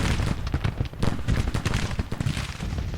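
Battlefield din from Grand Tactician: the Civil War, a 1863 Confederate campaign, with dense overlapping musket volleys and artillery reports crackling and booming in quick irregular bursts, moderately quiet and continuous.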